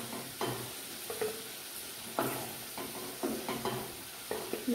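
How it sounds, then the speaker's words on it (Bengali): Potatoes fry in oil for stuffed aloo dum, reddened and crisp. A continuous close sizzle is broken by repeated scraping and stirring knocks from the pan at irregular intervals, with no talking. "আলুগুলো আমার লাল লাল করে ফ্রাই হয়ে গেছে"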